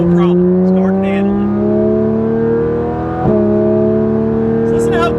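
A tuned Porsche 911 GT3 RS engine holds a loud, steady, smooth high-pitched drone with rising harmonics, briefly dipping around the three-second mark before resuming, with faint background sounds.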